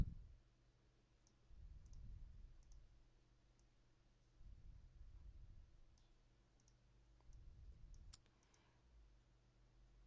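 Faint, sparse mouse clicks sound over a quiet desk, arriving singly and in short pairs at irregular intervals, with a low background hum swelling and fading between them and no one speaking.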